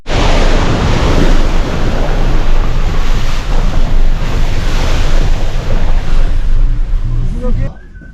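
Strong wind gusts across an open outdoor spot in northern India, loud close rumbling buffeting of the microphone that fills the whole clip before cutting off near the end.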